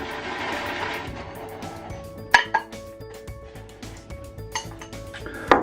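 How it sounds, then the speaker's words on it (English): A shaving brush stirring lather in a bowl gives soft swishing and scraping, broken by a few sharp clinks of the bristle handle against the bowl rim. "Give it a quick stir up again."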